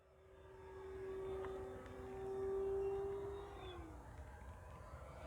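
A small E-flite 1.5m radio-controlled model warplane's electric motor whines at a high pitch, swelling as it revs at half throttle on takeoff, then the tone slides down as the plane draws away. No one speaks.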